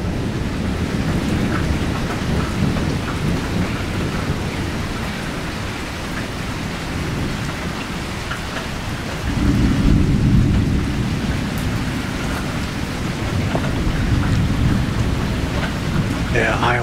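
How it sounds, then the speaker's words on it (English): An Iowa thunderstorm: heavy rain hisses steadily while deep thunder rolls and rumbles, swelling louder partway through and then easing back under the downpour. "Yeah, Iowa storms."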